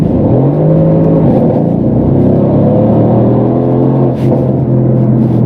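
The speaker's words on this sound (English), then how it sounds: "So let me just demonstrate. Second gear, full throttle." A Brabus 600 tuned Mercedes C63 AMG V8 pulls hard at full throttle in second gear, its loud, close engine note climbing steadily in pitch with a deep rumbling growl, heard from inside the car.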